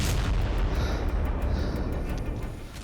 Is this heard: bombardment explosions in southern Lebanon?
yes